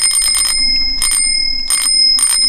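A bicycle bell rings in four quick bursts of rapid dings, close and loud, on a ride through a wooded trail.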